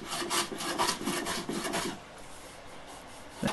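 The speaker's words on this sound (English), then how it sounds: "Then I planed the sides down flat as well." Hand plane shaving the face of a wooden folding coat hook, repeated rasping strokes in a steady rhythm for about two seconds, then a quieter pause and one last short stroke, close and alone.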